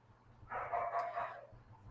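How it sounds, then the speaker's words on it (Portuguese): A dog barks in the background during a street-side podcast recording, a short muffled burst of barking heard at a distance with faint low rumble underneath. "Vai ter um cachorro agora de fundo latindo, porque tá passando um caminhão na rua."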